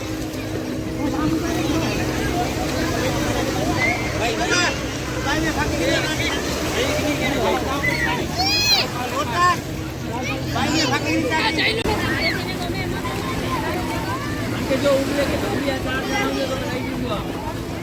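Boat ride at Shivrajpur beach, with motor and water noise, wind buffeting the microphone, and a babble of passengers talking throughout.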